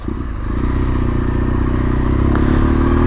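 A motorcycle climbs the Colle Fauniera mountain pass in Italy, its engine loud and close in a continuous buzzing drone that rises slightly in pitch, with some clatter and a brief knock partway through.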